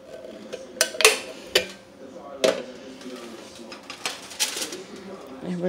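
Clattering clinks of a baking dish of pork chops in Hawaiian sauce being handled and set into an oven, several sharp knocks and rattles with a voice talking over them.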